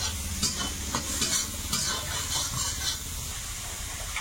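Small shrimp fry in oil with turmeric and salt, a close, continuous sizzle with crackling spits and the soft scrape of stirring throughout.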